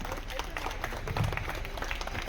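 An audience claps in sustained applause at a stage event honouring a doctor, a dense, steady patter of many hands with crowd murmur underneath, lasting the whole moment without a break.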